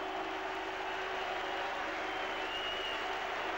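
A large cricket crowd at Kensington Oval in Barbados applauds Graham Thorpe's half century in a 1998 Test match, a dense, continuous roar of clapping from a distance, sustained evenly throughout.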